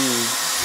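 A hair dryer powered through an inverter blows with a loud, constant whooshing hum and a faint motor whine that shifts slightly in pitch near the end.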